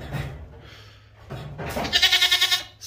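A lone, unhappy goat left by itself bleats one loud, wavering, nasal cry after some quieter rustling and muffled shuffling nearby.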